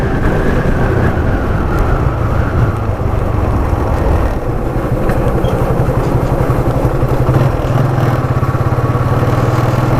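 Motorcycle riding along the Asian Highway near Bagdogra, Siliguri, its engine droning steadily and close with a mid-pitched hum and rumbling wind noise throughout.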